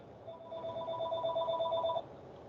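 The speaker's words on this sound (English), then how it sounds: "My phone is ringing, but I'm not answering it." A lab desk telephone rings steadily in an electronic tone for about two seconds, fairly loud against low room hum, with no talking.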